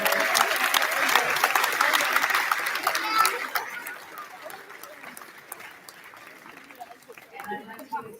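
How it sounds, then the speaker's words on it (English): Applause at a school arts celebration for kindergarten and other child participants, dense clapping for about three seconds that thins into scattered claps, with children's voices and crowd chatter carrying underneath. "So we'll give a big round of applause for all our participants."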